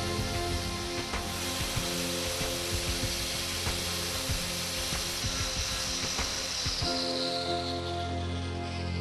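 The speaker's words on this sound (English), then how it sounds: "Then the material is sanded down 1 millimeter over a width of barely 20 millimeters at both ends." A sander grinds steadily across PUR/PU or PPE+PA plastic, thinning the material ahead of plastic welding. The gritty, close rasping runs continuously, with a slight shift in tone near the end.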